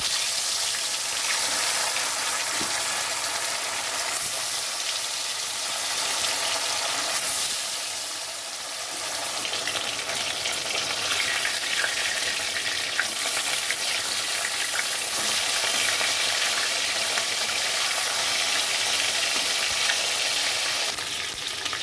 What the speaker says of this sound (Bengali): কড়াইতে সর্ষের তেল দিয়েছি তেলটা গরম হয়ে গেছে তো এখানে আমি মাছ ছেড়ে দিচ্ছি ভাজার জন্য